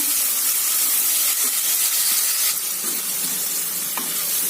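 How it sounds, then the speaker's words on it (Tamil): Onions with green chillies sautéing in a pan for coconut milk biryani give a steady, dense hiss and sizzle, close and constant with faint crackles throughout. "இப்போ இந்த வெங்காயம் வதங்கட்டுங்களா"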